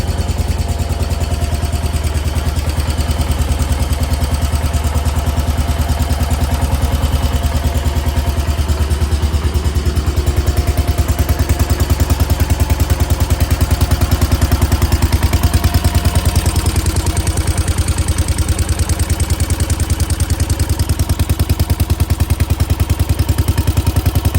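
A 1968 Case 155 garden tractor engine, freshly revived after sitting more than twenty years, idles loud and close with a steady rumbling, clattering chug throughout, no voices over it.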